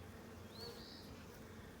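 Honeybees buzz on a beehive frame with newly emerging drones, a faint, steady droning hum with a brief higher whine from a single bee passing close.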